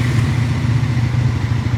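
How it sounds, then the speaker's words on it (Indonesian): Triumph Tracker 400 motorcycle idling in neutral, a steady low, bassy engine rumble held evenly throughout with no change in revs. "ini suara dari Triumph Tracker 400"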